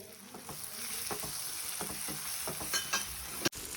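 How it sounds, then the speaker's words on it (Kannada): Tomatoes fry in a pan for egg bhurji, a soft, fairly quiet sizzle under scattered scraping stir strokes and a sharp click near the end, no voices. "ಟೊಮ್ಯಾಟೊನ ನಾವು ಚೆನ್ನಾಗಿ ಫ್ರೈ ಮಾಡ್ಕೊಳ್ಬೇಕು"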